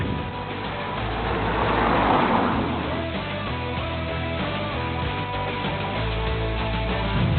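Continuous engine and road noise from a BMW 2 Series Gran Coupe driving on the road, a steady moderately loud hum with tonal whine layers and no clear talk.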